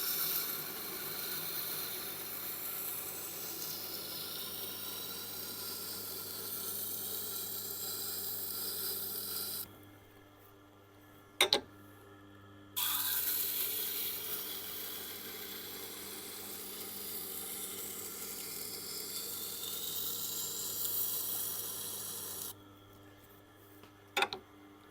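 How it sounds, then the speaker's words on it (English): A knife is ground on a Tormek sharpener with a steady, close hiss from blade against stone. The grinding drops out for a short gap and returns, with a few sharp clicks along the way. "Okay, now I'll do one grind per side."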